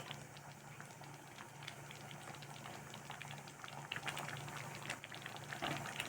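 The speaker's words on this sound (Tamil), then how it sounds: "கொதிக்கிறது பாருங்களா" Thick chayote curry bubbles and simmers steadily in a pot, soft popping and gurgling throughout, close but quiet.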